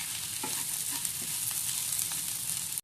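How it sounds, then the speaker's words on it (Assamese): Bottle gourd peel frying in a generous amount of oil, with onion and a dried chili, gives a steady, close sizzle that stays dense and even throughout, broken by faint utensil scrapes and a brief clink near the end. "অকণমান কাঢ়াকৈ ভাজি লৈ তেল অকণমান বেছিকৈ দি"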